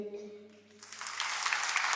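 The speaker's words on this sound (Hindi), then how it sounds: "जोर से तालियां बजाइए" A voice singing or speaking briefly gives way to a church congregation's loud applause, a thick wash of many hands clapping that swells and holds steady to the end.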